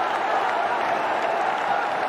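Cricket stadium crowd at a New Zealand versus Bangladesh one-day international applauding a batsman reaching fifty, a steady broad wash of distant clapping and murmur filling the whole stretch without pause.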